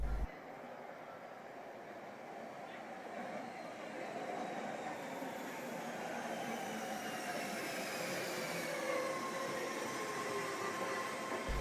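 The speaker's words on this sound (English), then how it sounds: "caught the BART from Fruitvale Station" A BART commuter train rolling along from Fruitvale Station in Oakland, with a steady rumbling roar that grows louder and faint rising squeals from the wheels, with no talk.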